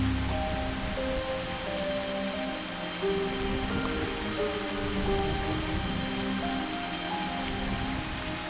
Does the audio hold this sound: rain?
yes